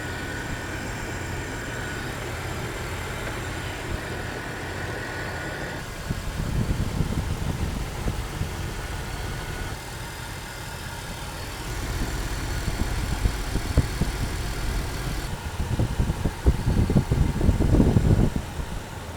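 A Jeep Wrangler engine idling steadily up close, a low rumbling drone that swells a little louder at times, with no voices.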